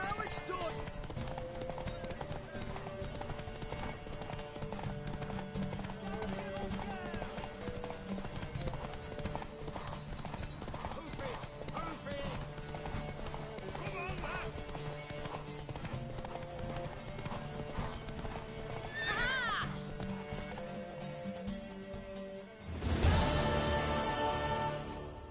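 Steady clip-clop of galloping hooves runs throughout under game music in The Witcher 3 during a horse race, with a brief horse whinny near the end and some voices.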